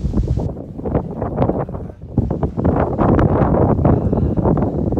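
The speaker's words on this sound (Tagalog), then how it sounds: "mahangin ngayon" Wind gusts buffeting the microphone in rumbling, uneven bursts, fairly loud and close, with no clear voices, on a foggy upland in Malico, Pangasinan.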